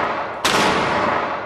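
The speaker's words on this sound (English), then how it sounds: "They just triple flash the room." A flashbang grenade in the game Rainbow Six Siege goes off indoors as a sudden loud, bright bang followed by a long ringing hiss that slowly fades.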